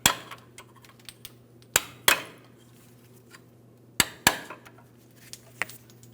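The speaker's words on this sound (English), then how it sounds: "Now let's see if we can tap the bolt out of position." Sharp metallic hammer strikes against a control arm bolt on a 2007-2014 GMC Sierra 2500 HD, a few spaced single taps and quick pairs ringing briefly in a quiet garage.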